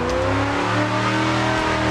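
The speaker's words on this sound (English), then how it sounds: "So make sure you drift in the highest gear possible." BMW E36 engine in the Assetto Corsa video game, revving hard at high rpm while drifting in a high gear, with a steady, loud, harmonic whine that dips briefly and climbs again.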